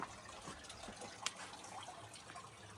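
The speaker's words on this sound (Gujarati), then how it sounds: "ઉપરથી પાણી નથી આવતું અને અહીંયા પાણી ટપક્યા કરે છે." Water drips and trickles at a spring in hilly forest, a faint soft patter with one slightly sharper drop partway through, heard alone in a quiet setting.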